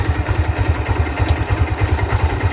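A motorcycle engine runs close and loud while the throttle and clutch are worked, giving a steady, rapid chugging pulse throughout.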